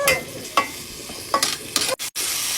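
Goat meat pan-frying in a home kitchen for kaldereta, a steady sizzle broken by several sharp scraping stirs, close and fairly loud, with two brief drop-outs near the end.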